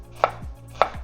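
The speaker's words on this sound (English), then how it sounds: "we're going to chop it" Fresh ginger chopped with a knife on a cutting board, two crisp, evenly spaced knife strikes, close and clear with nothing else heard.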